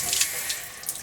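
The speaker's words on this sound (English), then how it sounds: "I'm going to run the hot water." Hot water running from a sink tap into a drain during a home drain-cleaning job, a close, steady splashing rush lasting about a second with no voices.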